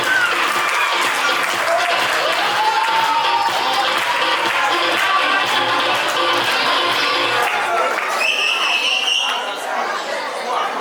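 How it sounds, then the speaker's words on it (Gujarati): An audience at a community annual convention breaks into loud, sustained applause for a family, with dense clapping and crowd chatter holding steady for about ten seconds and easing slightly near the end. "બડા જોરદાર તાળી વગાડો એ ફેમિલી માટે"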